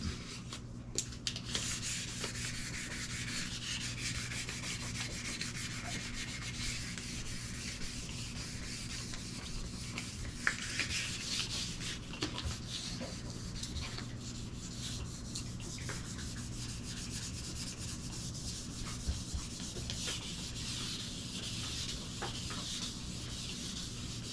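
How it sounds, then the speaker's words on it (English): Continuous abrasive rubbing of 1500-grit sandpaper on a wooden guitar part, steady strokes close to the listener, with an occasional light tap and no voices. "So when you're sanding through here and you're not seeing it build out like that"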